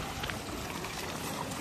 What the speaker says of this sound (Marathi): अरे वा, छोटीशी नदी.